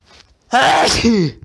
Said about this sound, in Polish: Noż ty mocne kichnięcie